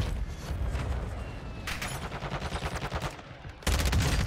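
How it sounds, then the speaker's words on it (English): Rapid automatic gunfire from a Warzone 2 match, including an SMG, rattles continuously in dense bursts, loud and close, with a fresh heavy volley kicking in near the end. "What are you shooting at, Timmy?"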